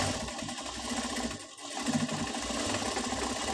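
A close sewing machine hums and whirs continuously while stitching the Peter Pan collar of a child's frock, easing off for a moment before picking back up.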